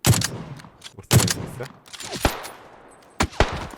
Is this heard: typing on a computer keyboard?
no